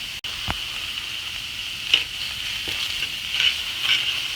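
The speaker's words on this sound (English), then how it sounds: "grab your onions and peppers and dump those babies in" Onions and peppers frying in a cast iron pan, a steady high hiss with a few scraping stirs and knocks scattered through, no voices.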